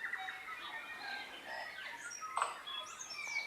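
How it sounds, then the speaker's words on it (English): Many forest birds call and chirp at once in a dense, faint chorus of overlapping whistles and trills, with no talking. "You can't hear yourself because of the sound of the birds"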